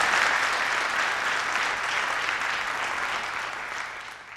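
A school district audience gathered for a State of the District evening gives a round of applause, a full, steady clapping that fades gently toward the end.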